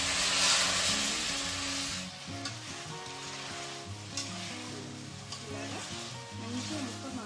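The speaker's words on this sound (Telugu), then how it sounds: "మనం ముక్క 4 వైపులు వేగుతూ ఉండాలి." Chicken pieces for Hyderabadi chicken marag fry in a large pan with a steady close sizzle and occasional stirring scrapes, under soft background music.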